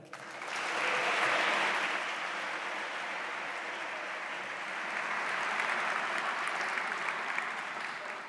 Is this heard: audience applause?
yes